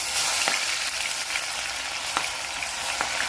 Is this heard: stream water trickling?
no